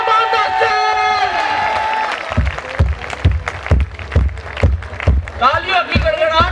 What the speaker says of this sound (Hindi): तालियों की गड़गड़ाहट रुकनी नहीं।